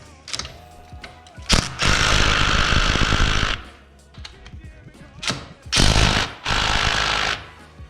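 A 17mm tool tightens motorcycle rearset peg bolts in two long, loud, rattling mechanical bursts, with short thumps and quieter gaps between them.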